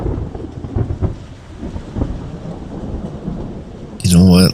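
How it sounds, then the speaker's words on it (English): A thunderstorm spell effect, Poison Rain, from the video game Queen's Wish 2, plays as steady rain hiss under a loud thunder crash near the end. "Poison Rain's really useful."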